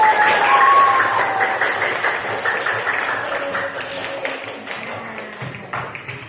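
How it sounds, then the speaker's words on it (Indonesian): Children in a classroom clap together in a burst of applause that starts loud and gradually thins out over several seconds, with scattered claps trailing at the end. "Luar biasa, tepuk tangan dulu."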